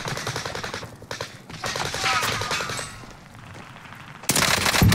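Rapid automatic gunfire in a Call of Duty match, bursts of loud rattling shots close by with sharp blasts near the end, dense and continuous throughout.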